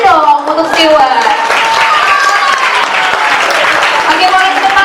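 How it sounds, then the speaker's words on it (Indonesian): Audience applause in a hall after the first-place winner of an abacus competition is called, dense clapping over continuous talk and cheering for the full length. "Tepuk tangannya dong untuk Stewart"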